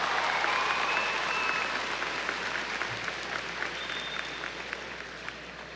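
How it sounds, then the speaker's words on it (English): Sustained applause from a crowd honoring graduates at a 2019 high school graduation ceremony, a dense steady patter of many hands that slowly tapers. "Let's give our graduates one final round of applause."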